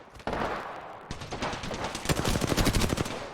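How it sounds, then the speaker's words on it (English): Gunfire in an Apex Legends match: rapid automatic bursts crack out close and loud, one stream after another, with dense rattling volleys building toward the end and no voices over them. "Taking fire. Getting shot at."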